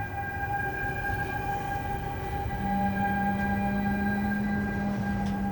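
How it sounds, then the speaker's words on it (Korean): A passenger train runs at dusk, giving a continuous loud rumble with steady humming tones and a rising whine partway through, with no voices. "해가 저물어가는 시간, 수많은 승객들을 태운 채 평화롭게 달리는 기차에서"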